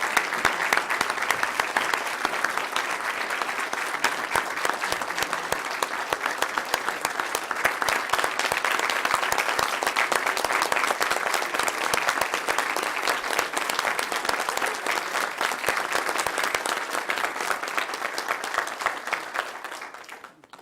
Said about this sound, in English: for this, we applaud them and thank them from the bottom of our hearts